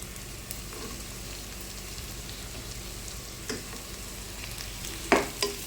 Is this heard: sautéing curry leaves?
yes